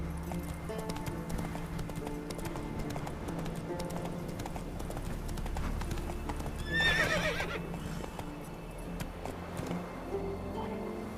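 A horse in The Witcher 3 gallops with continuous rhythmic hoof clip-clops over game background sound, and a loud neigh breaks through partway, with no speech.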